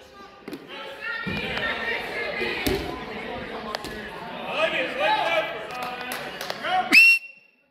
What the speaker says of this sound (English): Gotta wait for the whistle.